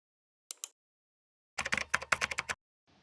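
Typing on a computer keyboard: a brief pair of key taps, a pause, then a quick run of about a dozen crisp clicks, close and clear against silence.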